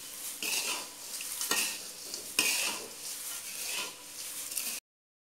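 A spoon stirring chivda, flattened rice mixed with salt and sugar in a pan with the heat off, makes dry rustling scrapes in repeated sweeps with an occasional clink, close and moderately soft, ending in silence.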